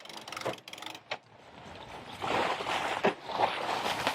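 Sailboat winch on a new aluminum sailboat hoisting a code zero sail in light wind, giving bursts of mechanical clicking and ratcheting with rope and rigging noise, close by and fairly quiet, with no talking.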